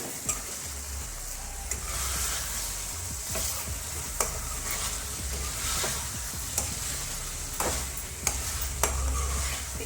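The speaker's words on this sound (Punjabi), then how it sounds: "ਆਪਾਂ ਉਹਨੂੰ ਇਸ ਤਰ੍ਹਾਂ ਪਾ ਕੇ ਮਿਕਸ ਕਰ ਦਵਾਂਗੇ" Pumpkin halwa being stirred in a hot pan, a steady sizzle with scraping strokes and occasional clinks of the spoon against the metal, close and continuous with no talking.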